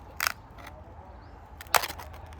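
Two sharp, crisp snaps of a brittle rice cracker breaking up close, about a second and a half apart, with quiet in between.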